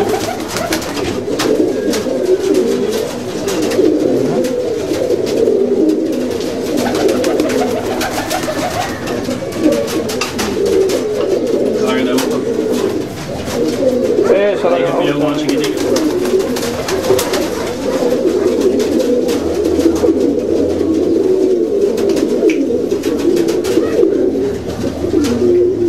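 Pigeons coo steadily in a loft, a dense low rolling murmur from several birds layered close together and continuing without pause, with occasional wing flutters and rustling over it.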